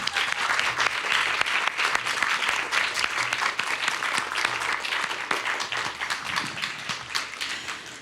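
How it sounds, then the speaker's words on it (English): Sustained applause from an audience at a panel discussion on a stage, dense continuous clapping filling the room for the whole stretch with no talk over it. "One more round of applause, please."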